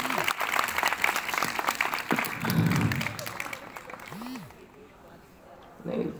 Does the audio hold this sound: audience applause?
yes